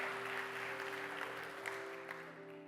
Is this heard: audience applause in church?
yes